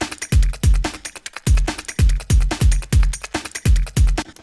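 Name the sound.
beat drums playing without the sample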